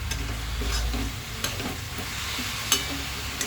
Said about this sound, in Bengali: আমি সমস্ত কিছু উপকরণ দিয়ে ভালোভাবে একবারে নেড়ে চেড়ে